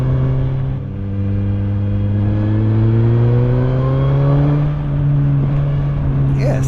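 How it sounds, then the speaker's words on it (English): A 2020 Suzuki GSX-S1000F motorcycle engine pulls hard on the throttle, its loud, steady droning note climbing in pitch as it accelerates close by, with rushing wind underneath. "it certainly has got some good throttle response when you do give it a good wind on"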